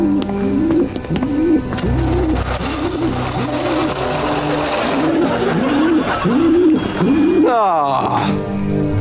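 A small bird coos in a steady, repeated series of soft rounded calls, each following close on the last, set against a constant busy background hum.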